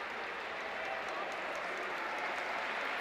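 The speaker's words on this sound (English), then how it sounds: "gets a warm round of applause from the fans here at Ginásio Pedro Cal" Basketball fans at Ginásio Pedro Cal give a warm round of applause as a player leaves the court, a steady, dense wash of clapping from a large crowd, with a commentator talking over it.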